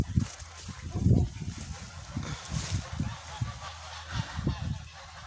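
Geese honk repeatedly in a noisy, overlapping chorus outdoors, with bursts of louder honking against steady background noise.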